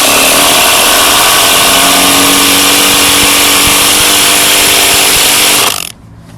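A drill drives a screw into rough cut white oak for a raised garden bed, a loud continuous whirring grind lasting several seconds before stopping abruptly.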